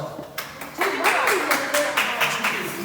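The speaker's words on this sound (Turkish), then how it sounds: "Küçücük bir alkış alalım arkadaşımıza." A small group gives a child a short burst of scattered clapping inside a museum, individual claps distinct and uneven, starting sparse and thickening into a modest patter before fading.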